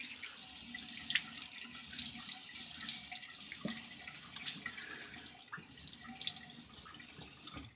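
A bathroom tap runs steadily into a sink as a face is wetted before a shave with an early 1900s Clauss automatic razor, a constant close hiss with small splashes and drips.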